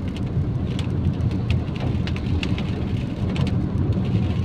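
Heavy rain pours down steadily during traffic, a dense continuous wash of drops close by with a low rumble underneath and no pauses.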